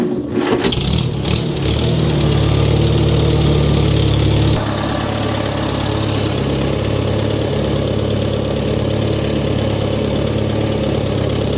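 A Farmall Super A tractor engine, just after an oil change, sputters and catches with a few rough bursts, then settles into a loud, steady, knocking idle that continues to the end.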